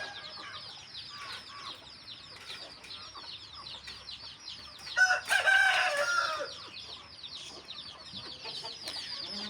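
Hens on a poultry farm cluck and chatter continuously, a dense flock of overlapping calls with a louder squawking outburst midway, steady and fairly close throughout.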